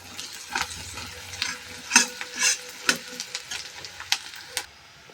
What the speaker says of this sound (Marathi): पनीर परतून घेतल्यानंतर त्याच तेलामध्ये मी कांदा परतून घेत आहे